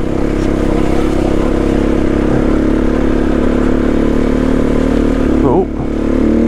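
An SWM RS300R motorcycle riding up a muddy hard-packed trail on road tyres, a loud continuous engine drone up close with slight revving variations, and a brief voice near the end.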